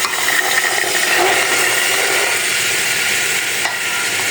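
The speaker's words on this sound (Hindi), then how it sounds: "इसको हम इस मसाले में अच्छी तरह फ्राई कर लेंगे।" Green chickpeas fry in a spiced masala, giving a dense, steady, loud sizzle with faint stirring underneath and no pauses.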